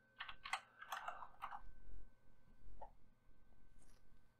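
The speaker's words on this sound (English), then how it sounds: "now I can type turbo again" Computer keyboard typed on at an MS-DOS prompt, a few quick faint clusters of key clicks early on, then sparse isolated taps against a quiet background.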